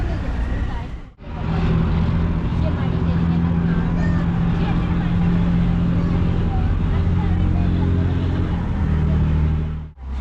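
A passenger ferry sets out from the Alappuzha boat jetty onto Vembanad Lake, its engine a loud, constant low drone with a dense rumble, with voices in the background.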